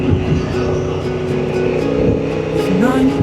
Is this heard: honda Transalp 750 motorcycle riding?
yes